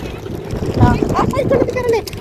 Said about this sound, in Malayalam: കാറ്റ് കാറ്റ് ഭയങ്കര കാറ്റ്